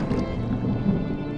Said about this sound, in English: Was that thunder? Still distant.